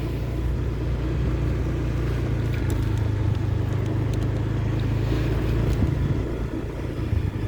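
A vehicle engine pulls away gently from a mosque in a West Sumatra town, its steady low rumble continuous and close throughout, with no talking.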